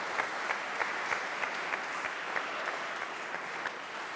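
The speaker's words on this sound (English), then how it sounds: "Let's give him a round of applause" An audience at a trombone symposium masterclass claps continuously for about four seconds, a steady wash of applause from a modest crowd with no talking over it.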